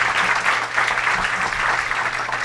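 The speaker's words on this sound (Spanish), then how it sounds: "un aplauso para Daniel" An audience claps steadily for a guest at a business talk, a continuous, fairly close wash of applause filling the short moment without speech.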